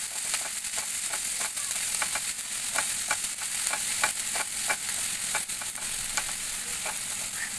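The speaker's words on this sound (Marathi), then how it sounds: "आता आपण हा एक कांदा बारीक चिरून घेतलेला होता तो घालून आपण तो सुद्धा आता थोडासा तांबूस रंगावर परतून घेणार आहोत" Finely chopped onion fries in a pan while being stirred, a close steady sizzle broken by regular scraping clicks of the spoon, with no voices.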